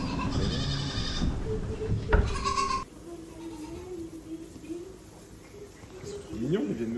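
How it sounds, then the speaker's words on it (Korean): Young goats bleat inside a barn on a French goat-cheese farm, several calls overlapping in a loud burst before a quieter stretch with softer animal sounds and people talking nearby. "아기 염소가 있는 축사로 들어가 봤습니다"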